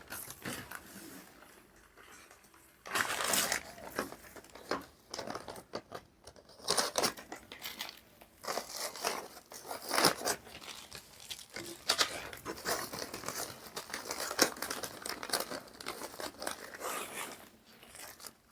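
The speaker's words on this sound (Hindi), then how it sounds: "पॉलीथीन मोटी होती है इसलिए ये चिपकती नहीं है।" Thick polythene crackles and crunches steadily while being handled and pushed into place, close and fairly loud, with a quieter opening before bursts of crinkling that continue for most of the stretch.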